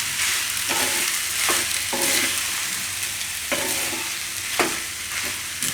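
Mango pieces and sugar being stirred into cooked rice, a dense steady rustle under repeated soft scraping strokes of a spoon against the vessel at irregular intervals.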